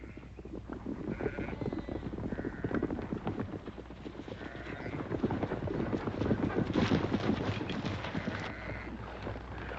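A flock of sheep bleats repeatedly as it is driven across open ranch land, the calls overlapping over steady clip-clop of horse hooves and a dense, busy herd rumble throughout.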